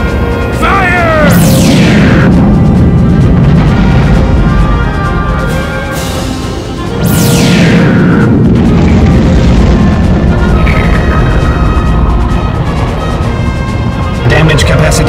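Spaceship main guns firing and explosions in the Star Fox: Assault game, loud booming blasts with sweeping laser zaps and crashing detonations that rumble continuously across the scene.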